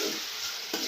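Hot oil sizzles loudly as ginger and garlic go into a pan of country chicken curry, a steady close-up fry with brief stirring bursts near the start and end.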